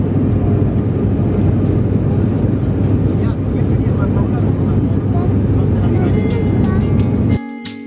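A steady, loud roar of a jet airplane cabin drones continuously, with a low engine rumble throughout before cutting off abruptly near the end.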